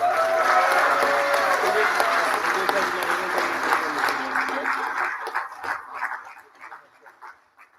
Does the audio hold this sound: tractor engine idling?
no